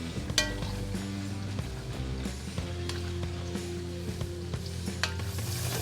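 Salted pork with chopped onion and garlic sizzles in a stovetop pan while being stirred, with steady frying crackle, occasional utensil clinks against the pan, and a few louder scrapes, heard up close.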